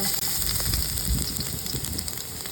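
Soy sauce mixture for pink salmon escabeche starting to sauté in a pan, a steady close sizzle and crackle with a brief dip near the start.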